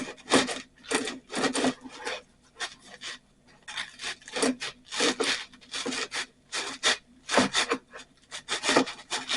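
A knife sawing through a loaf of bread baked in cast iron, rhythmic rasping strokes in repeated bursts with short pauses between, close and clear with no talk.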